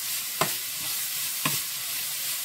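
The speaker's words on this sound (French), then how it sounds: "moi, je suis en train de faire cuire ma viande hachée" Minced meat frying in a pan for hachis parmentier gives a steady, dense sizzle throughout, broken twice by short scraping stirs of a utensil.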